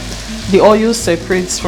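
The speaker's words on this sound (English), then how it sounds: "So I'm going to fry this pepper until it's completely dry, like the oil separates from" Pepper mix frying in hot oil for Nigerian native jollof rice, a steady close sizzle with bursts of crackle, and a voice-like tone running through it.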